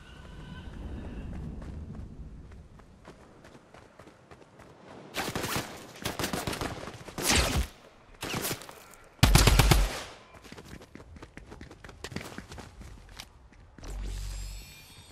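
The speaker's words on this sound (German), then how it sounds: "Wurde er nicht gerade auf mich geschossen?" Gunfire in Fortnite zero build mode, heard as several loud bursts of rapid automatic shots and single cracks spread over the span, separated by quieter stretches of footsteps and movement.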